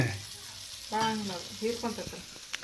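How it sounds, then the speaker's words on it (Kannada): Bangda mackerel fries in oil in a pan, a soft sizzle running low in the background while people talk over it. "ಒಂದು ಸೈಡ್ ಮಸ್ತ್ ಫ್ರೈ ಆಗ್ಯಾವ ಇನ್ನೊಂದು ಸೈಡ್ ಫ್ರೈ ಆಗ್ಬೇಕು"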